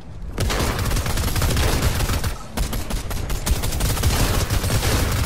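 SMG fire in Fortnite rattles out in loud, close, rapid bursts that fill the whole stretch, with a brief pause in the middle, and no talking.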